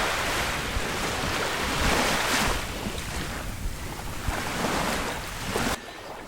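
Waves wash steadily onto a tropical island beach at Misool, Raja Ampat, a continuous loud surf roar mixed with wind buffeting the microphone, ending in a sudden quieter moment.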